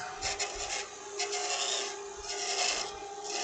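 A spindle gouge cuts into a spinning piece of wood on a lathe while a snowman is being turned, giving a continuous close scraping and rasping hiss that swells and fades with each pass.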